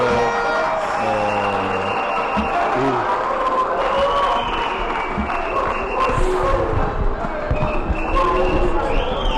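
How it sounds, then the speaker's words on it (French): Parliamentary plenary session opens amid a crowd's cheering and acclamation, a dense roar of voices, claps and rhythmic thumping filling a large hall, steady and loud throughout with talk mixed in. "La plénière qui commence sur des acclamations"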